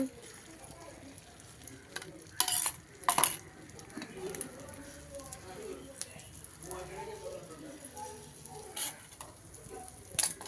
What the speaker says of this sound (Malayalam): ഞങ്ങൾ ആദ്യമായിട്ടാണ് ഈ അടുപ്പിൽ മുട്ട പൊരിക്കുന്നത്